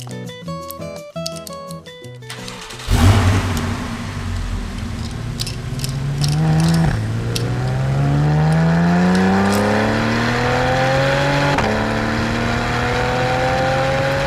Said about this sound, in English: Porsche.